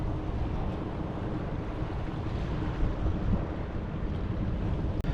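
A passing boat's wake rolling against a small cheap kayak on open water, a broad continuous wash of churning water and wind buffeting the microphone, steady and close.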